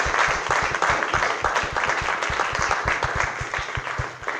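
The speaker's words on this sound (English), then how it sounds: "Join me in giving our guests a round of applause" Audience applause for guests at a filmmaker workshop on NFTs as indie film funding, close, crisp clapping with distinct individual claps in a steady, energetic round that runs the whole length.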